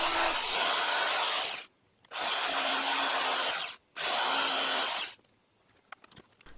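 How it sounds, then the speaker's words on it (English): A power drill bores holes in an enclosure for robot arm electronics in three separate bursts of about one and a half seconds each, whining loudly with short silent gaps between them. "I started to drill holes on either side."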